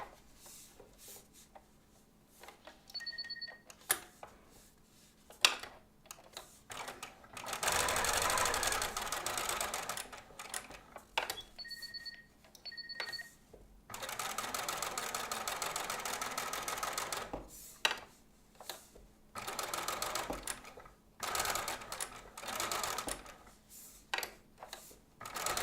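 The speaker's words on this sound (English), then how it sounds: "So this will get stitched across the bottom and like this." A sewing machine stitches a toddler's costume in two sustained runs, close and moderately loud, with quieter fabric rustling, clicks and handling noises between them.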